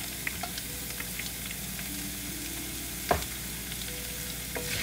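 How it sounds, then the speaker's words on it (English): Yellow onion fries in hot oil in a pan for cashew chicken while being stirred, holding a continuous close hiss of sizzling. A few light utensil scrapes sit on top, with one sharper knock partway through. "I'm going to fry this till it turns translucent."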